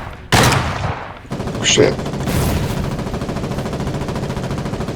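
Gunboat guns fire in the naval warfare game Foxhole, loud sustained bursts of heavy rapid gunfire with booming impacts that carry on without pause, close and dominant, while a player swears briefly.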